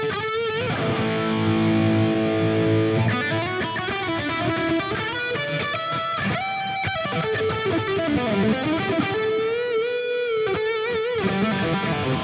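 Electric guitar played through a Sonicake Matribox II modeler with reverb and delay switched off, giving a dry, distorted tone: sustained chords at first, then single-note lines and riffs at steady volume, close and alone.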